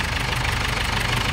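A 2011 Ford Everest engine idling smoothly without misfire, a steady close mechanical thrum with a light even knocking rhythm, loud and continuous with no stumbles.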